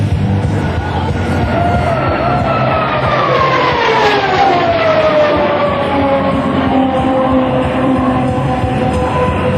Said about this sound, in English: listen to the distinctive roasting howl produced by the General Electric engine, a sound produced by no other fighter aircraft